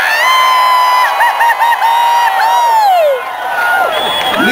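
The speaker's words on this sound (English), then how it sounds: "Now somebody really scream." A rally crowd at a health care reform demonstration in Seattle screams, whoops and cheers loudly and continuously, with shrill voices rising and falling close by and a few scattered claps.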